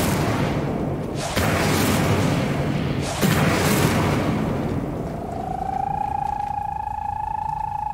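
Incendio fire spell in Hogwarts Legacy, two loud booming fiery bursts a couple of seconds apart, then a fading whoosh and a sustained tonal magical hum.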